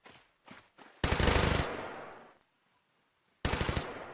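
Three gunners fire in a Warband mod battle in an open field. Short pops open the clip, then a loud burst of rapid machine-gun fire follows. After a brief silence, a second volley cracks in close.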